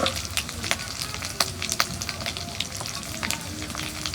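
Chopped onion with ginger, garlic and green chilli paste fries in hot oil, giving a steady close sizzle broken by sharp crackles and light stirring clicks, with no talking.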